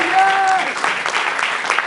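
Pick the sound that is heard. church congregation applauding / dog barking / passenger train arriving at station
church congregation applauding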